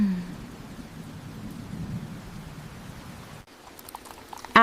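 Soft rain patters steadily with a low rumble of thunder beneath it. The sound then drops away abruptly, and a few faint taps follow near the end.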